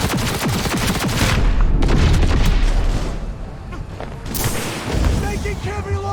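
Rapid gunfire and heavy booms in a Cyberpunk 2077 firefight, bursts of automatic shots with explosive thuds, loud and near, with shouted voices mixed in.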